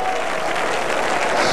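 Congregation at a 1999 prayer summit in Saint John, New Brunswick clapping hands together, a dense steady wash of applause filling the whole moment without pause.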